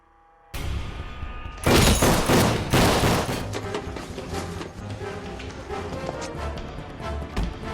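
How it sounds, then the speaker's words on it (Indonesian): A film shootout erupts with dense, loud bursts of rapid gunfire that continue steadily as an exchange of shots, over an abrupt start from near silence. "Baku tembak pun tak terhindarkan."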